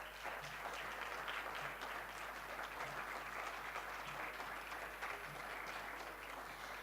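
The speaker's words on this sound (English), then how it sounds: "with a great round of applause" A large audience at a college orientation program applauds the chairperson, steady dense clapping held at full level throughout, with a faint background voice.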